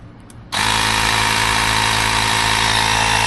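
A Ryobi portable tire inflator kicks on after a brief quiet moment, then runs with a loud, steady mechanical drone close by.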